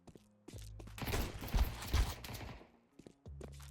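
A gun in a video game fires in quick, loud bursts of clustered shots in the middle of the clip, framed by a low engine-like hum before and after.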